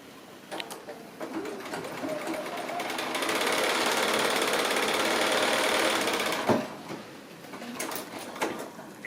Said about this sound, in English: I'm just going to sew that 1/4 inch seam as you would normally